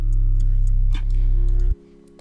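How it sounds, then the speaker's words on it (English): A reversed kick drum sample in an electronic production swells as a loud, low boom that builds and cuts off sharply, with lighter clicks and ticks over it. "This is a kick right here, and this is a reverse kick."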